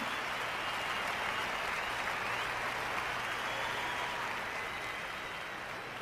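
A large congregation applauds at a French-language ministry gathering, a continuous broad roar of clapping heard from a distance, soft and steady for the whole stretch.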